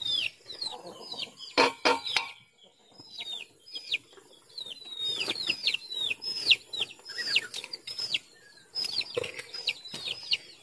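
Chickens cluck and call in repeated bursts on a farm, fairly close, with a few sharp knocks and faint background activity mixed in and no clear talk.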